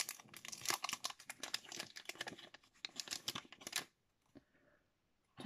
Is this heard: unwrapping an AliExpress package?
yes